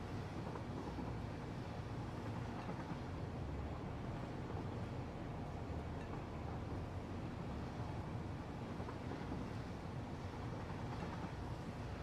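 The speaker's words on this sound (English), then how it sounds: "That train's a bit ahead of schedule." A train running in the Satisfactory video game gives a steady, dense rumble with broadband rolling noise that holds at an even level throughout and does not build or fade.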